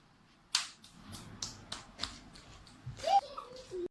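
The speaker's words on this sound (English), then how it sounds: "Clapping." Several sharp claps in an uneven rhythm, close by, with a voice briefly chiming in between them.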